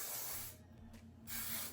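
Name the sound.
spraying Good Behavior heat protectant spray on hair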